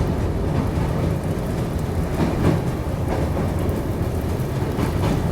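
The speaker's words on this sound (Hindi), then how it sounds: "बारिश एकदम तेज़ हो गई है" Heavy rain driven by strong wind lashes a moving express train near the Yamuna river in India, a dense, unbroken roar mixed with low rumbling, with no voices.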